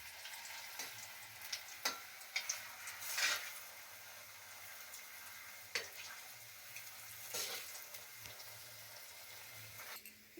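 Banana and milk sweets fry in hot oil over a lowered gas flame, giving a steady soft sizzle with scattered sharp crackles and pops, close and alone without talk.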